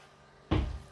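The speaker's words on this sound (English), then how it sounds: "So that's next door's door being slammed" A neighbouring house's door slams once, a sudden loud thud with a short rumbling decay after a quiet lead-in, heard through the walls with no talk.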